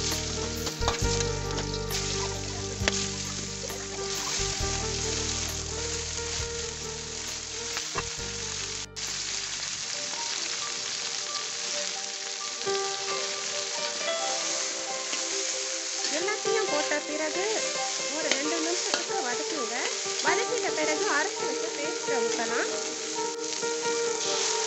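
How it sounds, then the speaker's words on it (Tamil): Onion and garlic sautéing in hot oil for a spicy turmeric sambal catfish dish, a continuous dense sizzle heard up close, with stirring and utensil knocks in the first part and a softer crackle later on. "எண்ணெய் சூடாகிட்ட பிறகு வெங்காயம் பூண்டு முதல்ல போட்டு வதக்கலாம்"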